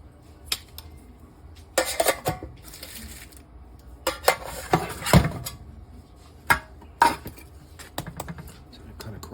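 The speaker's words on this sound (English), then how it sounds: "My husband is gonna cut the roast." Knife carving a crispy pork roast at a Sunday dinner table, with irregular crunchy cuts and clinks of utensils on a dish, some sharp close clatters between quieter gaps.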